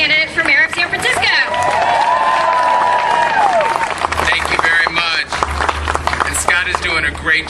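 Applause and cheering from a gathered crowd welcoming San Francisco mayoral candidate Bevan Dufty, a former city supervisor, rising as sustained clapping mixed with a loud amplified voice and background chatter.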